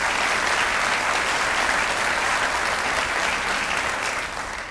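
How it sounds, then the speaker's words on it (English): Audience applause fills a county budget address by Knox County Mayor Glenn Jacobs, a dense, steady roar of many hands clapping that holds evenly for several seconds before easing slightly at the end, with no talking over it. "Let's give them a round of applause as well."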